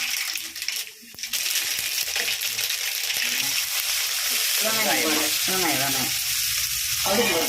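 Onions and dal frying in oil as a sambar tempering, a dense close sizzle with clinks and stirring scrapes, briefly dipping near the start then running steadily.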